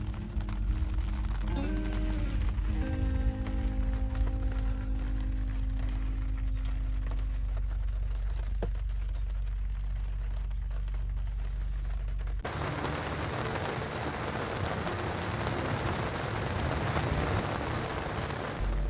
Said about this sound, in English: Then the rains came.